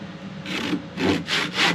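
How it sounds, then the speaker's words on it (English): A cross-cut saw cuts through a piece of wood held in a miter box during a mandola build, making several rhythmic rasping strokes close by. "I'm going to lay this piece in using a cross-cut saw."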